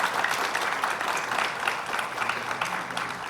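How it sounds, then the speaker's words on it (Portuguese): Audience at a presentation event for a metrology platform for the food and beverage industry applauds the participants, a dense, sustained clapping from a crowd throughout. "Então vamos aplaudir os nossos participantes aqui"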